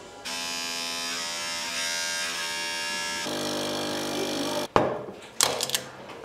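Electric hair clippers buzz steadily and close up for about four and a half seconds, a continuous harmonic whine, then cut off abruptly and give way to a few short clicks and brief buzzing bursts.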